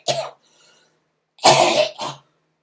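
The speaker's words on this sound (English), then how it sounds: "I'm still getting over a cough." Two separate coughing fits from one person in a quiet room, first a short single cough, then after a pause a louder cough followed by a quick second one.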